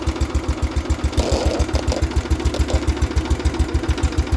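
A 1973 John Deere 140 H3 garden tractor engine runs steadily close by, its even, rapid pulsing beat alone and unbroken with no voices.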